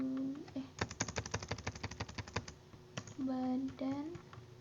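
Typing patient complaints into a computer form: a quick flurry of close, crisp keystrokes, then a few more taps, with a person speaking before and after.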